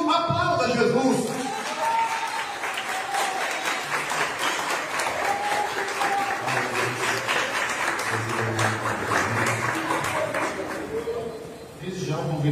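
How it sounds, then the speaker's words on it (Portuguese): A church congregation at a men's group service applauds loudly and continuously, mixed with voices and a few cheers, the clapping thinning out near the end. "Se você crê nisso, aplauda Jesus"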